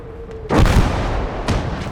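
Enemy artillery fire in Gates of Hell, a World War II strategy game set on a foggy battlefield: a heavy, close boom rolls out, followed by a second, fainter blast a second later.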